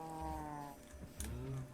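Cows mooing in a Minecraft-style video game, two drawn-out, fairly close moos separated by a short pause, with a faint buzz beneath.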